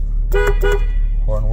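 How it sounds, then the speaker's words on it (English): Two short honks from a Jeep Cherokee XJ horn sound close and loud over a running engine, followed by a brief rising engine note. "Horn works."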